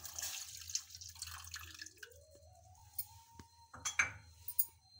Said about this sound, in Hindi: 1 कप दूध डाल देती हूँ।